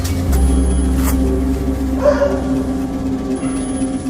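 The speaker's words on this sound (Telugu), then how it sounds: "కుక్కలు అయితే ఉడుతున్నాయి." Dogs barking at night, several yips and barks mixed in a steady noisy background, moderately loud and fairly close, with no talk over them.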